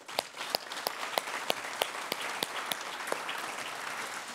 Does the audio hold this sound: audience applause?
yes